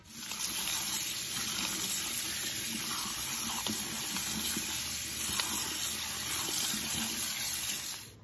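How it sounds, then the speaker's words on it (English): Milk poured out of a container in which Palmini noodles had been soaking, a steady close trickle and splash running continuously with no talking. "poured the milk out."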